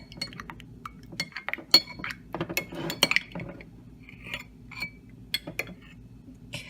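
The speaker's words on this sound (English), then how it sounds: "So I'm just gonna stir this around a bit." A spoon stirs yogurt starter into milk in a glass container, giving close, irregular clinks and taps against the glass with a soft swish of liquid between them.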